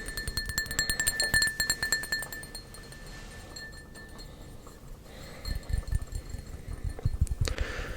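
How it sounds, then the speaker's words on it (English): Glass cup tapped by fingertips, a run of bright clinking taps with a lingering ring, quick clustered hits early, then sparser taps and softer handling noise later, close up. "I wonder if the glass tapping has too much of a ring to it."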